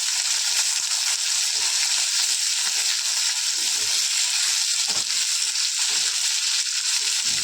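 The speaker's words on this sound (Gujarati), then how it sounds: "તરત આપણે આ ડુંગળી નાખી દઈશું। નાખ્યા પછી આપણે એને હલાવીશું।" Sliced onions frying in hot oil with green chillies for a Punjabi mixed vegetable sabji, a steady loud sizzle broken by repeated scraping stirs in the pan, no voices.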